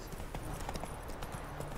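Horse hooves clip-clop at a fast pace in The Witcher 3: Wild Hunt as the rider charges into a village farmyard, a steady rhythmic beat under continuous game ambience.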